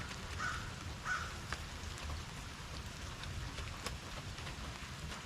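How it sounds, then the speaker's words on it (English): Steady rain falls in an outdoor yard, a soft continuous patter with occasional louder drips, faint and even throughout, with a couple of distant bird calls near the start. "The rain's getting worse."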